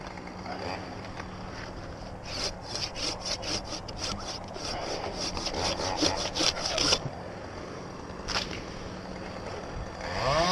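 An old handsaw cuts through a dead ash tree, its quick rhythmic back-and-forth strokes rasping close and steady, then stopping, followed by a lone later stroke.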